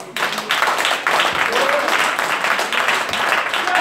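Clapping from a church congregation during an all-night prophetic prayer service, a loud rhythmic burst of many hands that stays dense throughout, with voices mixed in underneath.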